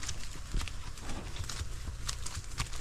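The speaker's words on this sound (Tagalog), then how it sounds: "nakasakay po sa kabayo mga utol" Horse hooves clip-clop steadily while the horse is being ridden outdoors in a rural Philippine village, the footfalls close and rhythmic under a constant roar of wind or road noise.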